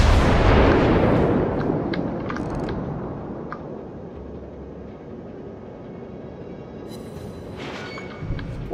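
Heavy naval guns boom in a World of Warships battle, a loud low blast at the start whose rumble decays over several seconds, with a fainter report near the end.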